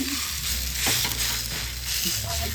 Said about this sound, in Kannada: ಒಂದು ಕಾವಲಿ ಇಟ್ಟು ಅದು ಸ್ವಲ್ಪ ಬಿಸಿ ಆದ್ಮೇಲೆ ಎಣ್ಣೆ ಹಾಕೊಂಡ್ಬಿಟ್ಟು ಅದ್ರ ಮೇಲೆ ರೊಟ್ಟಿ ಹಾಕೋತಿದ್ದೀನಿ.